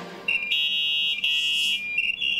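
A dial-up internet modem connects, producing loud, piercing electronic tones and beeps that shift in pitch and break off in short bursts, close and alone.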